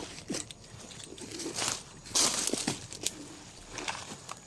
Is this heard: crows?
yes